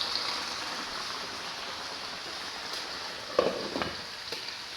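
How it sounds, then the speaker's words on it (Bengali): Fish fries in a pan of hot oil with a steady, close hiss that holds throughout, broken near the end by a few brief pops and spatters. "আর এখানে তো মাছ ভাজি"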